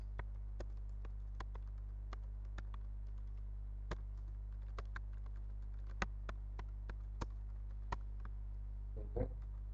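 Sparse keystrokes on a computer keyboard while entering an IP address into a network router lab, scattered single clicks over a steady low hum, with a brief burst of activity near the end.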